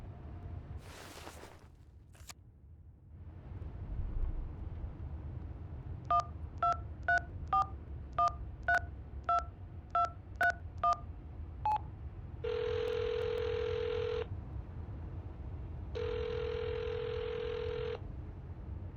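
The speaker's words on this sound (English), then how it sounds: "Dial the number." Telephone keypad tones from the video game Hitchhiker: a quick run of about ten evenly spaced dialing beeps, followed by two long steady ringback tones over a low ambient hum.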